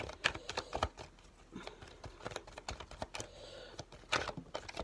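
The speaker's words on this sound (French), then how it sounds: "trop de cartes sont tombées" Tarot cards are shuffled and spill: a run of quick, close flicks and soft slaps with irregular rhythm, several sharper taps standing out.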